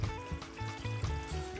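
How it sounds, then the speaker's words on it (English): String beans being rinsed in water in a home kitchen in Paramin, Trinidad: faint splashing and trickling of water, with irregular sloshes as the beans are swished about, heard quietly without talk. "Rinse it out in about 2 or 3 water to make sure everything come out."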